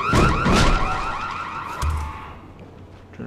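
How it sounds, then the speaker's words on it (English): Car alarm blaring inside the zombie game Dying Light, a loud repeating electronic whoop cycling for a few seconds before a dull thud cuts in and it fades. "Turn off the alarm."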